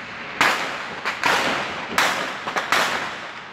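Gunshots ring out in an armed shootout on the Friendship Bridge linking Brazil and Paraguay, four or five sharp reports at irregular intervals, moderately distant and echoing, with no voices.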